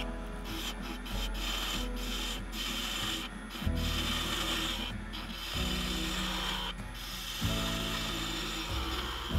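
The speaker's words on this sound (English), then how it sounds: "The skew chisel is used to quickly remove the material." Skew chisel turning a wooden snowman on a lathe, a moderate rough scraping rub over a steady low motor hum, interrupted by short rhythmic breaks as the tool is repositioned.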